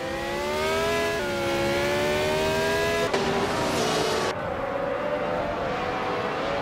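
A classic 1967 Ferrari 312 races around Ruapuna Park in a racing video game, its engine a loud, steady high-pitched whine that shifts pitch as it changes gear, continuous and close throughout.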